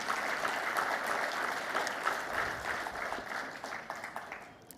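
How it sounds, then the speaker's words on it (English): Audience applause at a World Environment Day celebration marking twenty years of an organisation, a steady broadband round of clapping that holds for several seconds and slowly thins out toward the end. "I'm glad you already gave him a round of applause"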